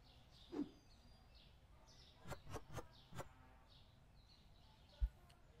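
Birds chirp in the Supermarket Simulator game: a few quick bright tweets and a short run of sharp chirps, faint over quiet ambient background, with no one talking.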